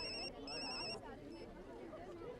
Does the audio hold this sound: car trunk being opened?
no